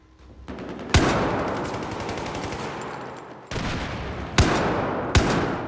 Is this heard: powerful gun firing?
yes